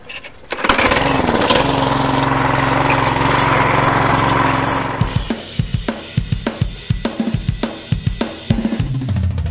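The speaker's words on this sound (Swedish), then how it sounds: "Nu är gräsmattan klippt." A lawn mower engine runs loudly and steadily for several seconds while mowing grass, then cuts out, followed by scattered clicks and knocks.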